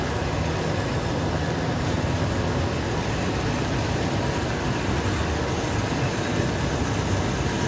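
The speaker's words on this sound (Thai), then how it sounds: "นี่ก็ขบวนสินค้า 986 นะครับ วันนี้พ่วงตู้บอพอหอนะครับมาด้วยนะครับ" Freight train 986 rumbles past close by at Nong Mai Lueang station in Thailand, a steady broadband roar with rolling wheel noise that holds constant throughout.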